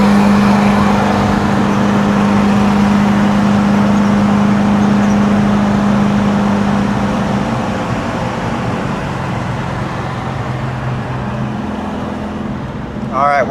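A Porsche 914 2.0 engine runs steadily at road speed with a strong, sustained hum that gradually eases as the car settles after a quick climb, heard from inside the cabin with road noise throughout.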